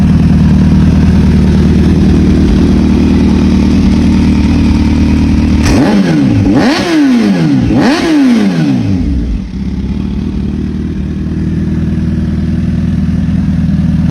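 Kawasaki ZH2 hyper naked motorcycle engine, loud and close, idling steadily before several sharp revs climb and fall in quick succession, then settling back to a rumbling idle.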